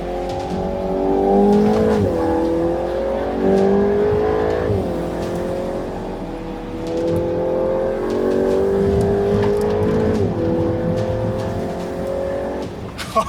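A Volkswagen Golf GTI Edition 50 accelerates hard on a racetrack at speeds above 200 km/h, its engine climbing in pitch through several gear changes with a loud, close, continuous roar and no talking.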